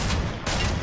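Rapid gunfire in a PS4 video game, a dense burst of shots with a brief dip midway before the firing resumes, loud and close.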